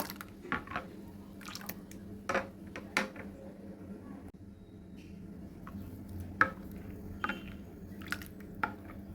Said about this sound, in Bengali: ভালো করে মিশিয়ে নিচ্ছি এই মোহব্বত কা শরবত